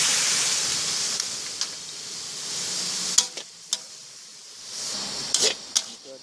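Spicy stir-fried Isok fish sizzling in a pan as water is added, a steady hiss that fades and swells, with a few sharp clinks of a utensil against the pan.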